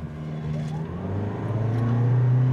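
A 2023 Toyota Prius Limited hybrid launches hard from a brake-torque start, its engine note rising steadily and growing louder with a smooth whirring drone throughout, no voices over it.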